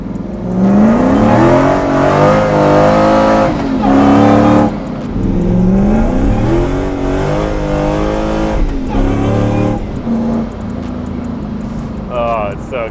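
A supercharged V8 drift truck drives hard at sunset, its engine loud and close, revving up and down in repeated surges with gear changes, then easing off to a lower idle near the end.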